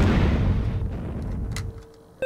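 A Phoenix Rod weapon in a Doom WAD fires with a loud burst that fades into a decaying rumble, ending with a sharp new hit.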